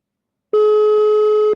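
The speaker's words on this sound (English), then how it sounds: "The phone ringing." A telephone ringing with one steady electronic tone lasting about a second, loud and close, with no talk over it.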